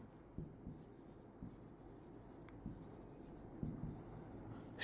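Pen or chalk writing out a maths problem in a class, soft scratchy strokes in short bursts over a quiet background hum, faint and close.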